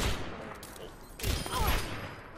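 Widowmaker's sniper rifle in Overwatch fires a sharp headshot crack amid busy in-game gunfire bursts, loud and close over brief chaotic action.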